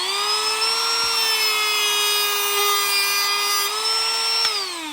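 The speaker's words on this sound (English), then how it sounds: "You want to grind down a little bit and then keep a rolling action." A rotary tool grinds down an AK trigger part with a rolling action, giving a steady, loud, high-pitched whine that holds its pitch, dips briefly near the end, then drops away.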